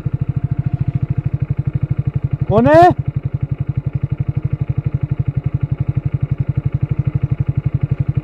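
A motorcycle rides at night with a steady, throbbing engine pulse right through. A short rising vocal call cuts in briefly partway through.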